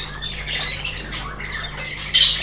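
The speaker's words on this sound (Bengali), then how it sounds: "কত সুন্দর পাখিগুলো" Pet birds kept as a breeding pair give harsh, close squawks over a steady low hum, with a louder burst of squawking at the end.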